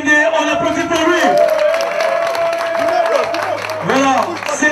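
A crowd at a fan club gathering in Pointe-Noire claps and cheers for its communications officer, a brief burst of applause under someone speaking loudly over a microphone.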